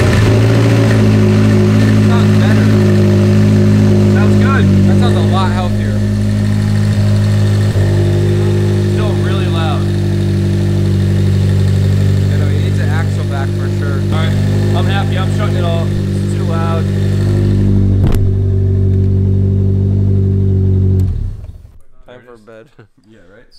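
A car engine with no muffler runs loud and raw, a deep rumbling idle with rough revving swells, close up for about twenty seconds before cutting off, with some voices in the background.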